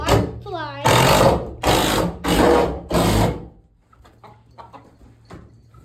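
Silkie chickens in a chicken barn give a short rising cluck, then four loud rasping bursts in quick succession, followed by scattered faint clucks and rustles close by.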